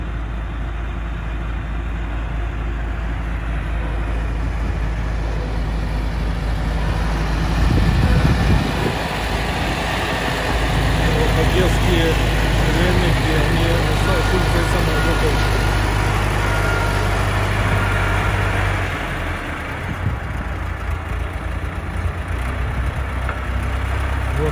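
A YuMZ T-40 tractor with a front-drive axle, its diesel engine running steadily and loudly up close throughout, with a surge in load partway through and a low constant rumble underneath.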